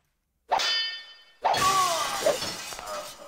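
In the stealth game Thief, a frozen enemy breaks apart with two bright ringing clangs of shattering ice, the second followed by a glassy tinkling crash that fades out.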